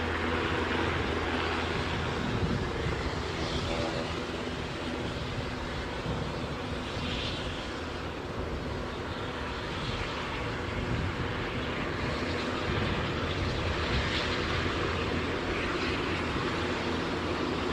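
Aircraft engine noise at Aberdeen airport, a loud continuous broadband roar holding steady throughout with slight swells, close by and without talk.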